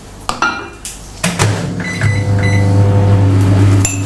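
An 800-watt microwave oven runs with a steady low electric hum, preceded by a few door clunks and button beeps, loud and close with no talking.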